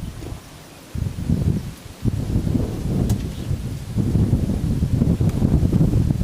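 Gusty wind buffets the microphone outdoors while float fishing from an anchored boat as a storm rolls in, a rumbling roar rising and falling in surges with a brief lull and growing stronger toward the end.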